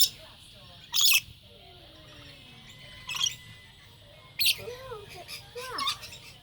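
Parrots on a morning visit give several loud, harsh squawks spaced a second or two apart, with softer chirping calls between them.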